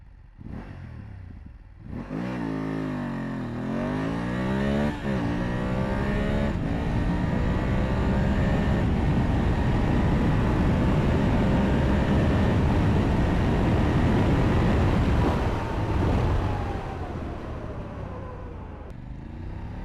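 BMW F850GS motorcycle accelerating hard with traction control switched off, the engine revving up through the gears with rising and falling pitch at each shift, loud and steady over about twenty seconds.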